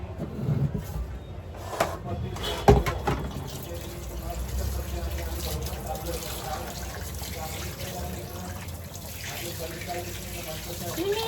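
Crabs being rinsed in water for cooking: splashing and running water sloshing close by, with a brief louder knock early on, while someone talks.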